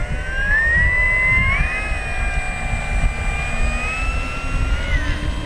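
An FMS Corsair 1700mm V3 RC warbird, upgraded with a 360KV electric motor, takes off with flaps down. Its motor gives a loud, steady whine that rises and shifts in pitch over constant wind rumble.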